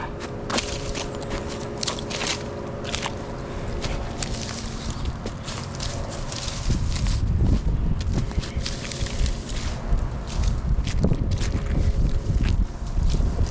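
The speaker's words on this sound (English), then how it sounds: "It's windy again today," Wind gusting across open farmland, a steady broadband rush that swells and buffets the microphone, growing louder and rougher in the second half with occasional thumps and rustles.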